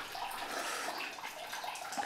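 Hot spring water flows steadily into an in-room bath at an upscale ryokan in Hakone, a continuous soft splashing and rushing at moderate level without pause.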